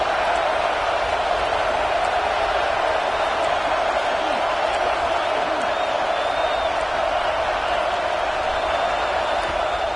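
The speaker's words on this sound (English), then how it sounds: "this crowd is fired up. Listen to this noise here." A fired-up crowd in a football stadium keeps up a dense, sustained roar that fills the space evenly throughout, with faint whistles and shouts rising within it.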